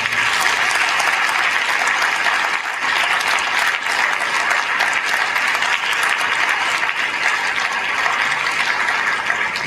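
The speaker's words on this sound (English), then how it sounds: "Can these contributors that have stepped up please stand in for a round of applause?" Dense, sustained applause fills a gala hall at a scholarship foundation event as contributors stand, with a steady roar of many clapping hands that holds at an even loudness throughout.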